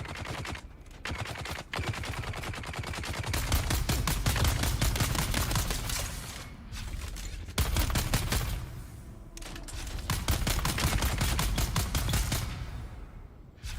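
Rapid, sustained bursts of Gatling gun fire in the Dune video game, dense rattling volleys running nearly nonstop with a few brief pauses, loud and close with no talking over it.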